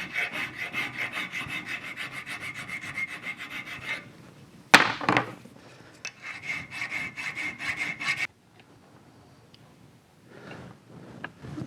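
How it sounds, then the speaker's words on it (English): Steady rhythmic rasping strokes of sandpaper on an Aermacchi motorcycle's metal chain guard, close and continuous, stopping briefly with a clank, then resuming before fading to near quiet. "I got some sanding to do"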